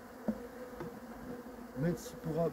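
Faint honeybees robbing a hive buzz in short bursts against a quiet background, with a few brief wing-whines coming close and fading.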